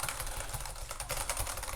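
Quick typing on a clicky mechanical keyboard with candle-style switches, a dense run of sharp key clicks close to the microphone and no talking.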